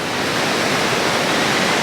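Ocean waves at Pismo Beach, a loud, steady wash of surf noise close by, continuous and without a break.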